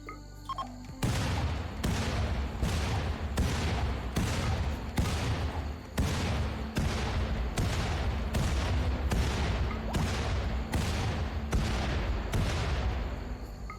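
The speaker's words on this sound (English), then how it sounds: "chucking grenades at bodies" Grenades going off one after another on corpses in a video game: a long, steady run of loud, booming blasts at roughly even intervals, with no talking.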